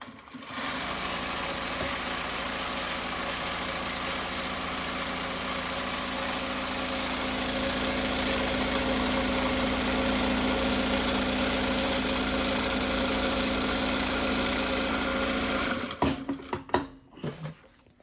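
Jack JK-T2284B direct-drive zigzag industrial sewing machine stitching a 4 mm zigzag sample, a loud steady whirring run for about fifteen seconds, then stopping with a few clicks and knocks.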